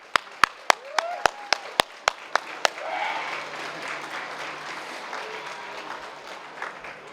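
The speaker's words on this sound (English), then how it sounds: "I just want to extend a round of applause for Josh and" Applause from an outdoor Day of Truth and Reconciliation gathering at Tk'emlups te Secwepemc begins with a handful of loud, evenly spaced claps up close, then swells into softer, sustained crowd clapping that fades away.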